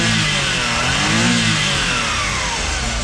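Engine of a Suzuki DA64V mini van revving up and easing back, a close, loud mid-pitched motor drone that rises and falls continuously with no voices over it.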